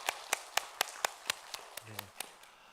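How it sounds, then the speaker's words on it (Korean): Church congregation clapping in a slow, evenly spaced rhythm, about a dozen sharp claps in a row, fairly quiet, with a brief voice sounding partway through. "하나님께 영광의 박수 올려드리겠습니다"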